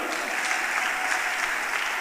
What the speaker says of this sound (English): Please, let's acknowledge them with a clap.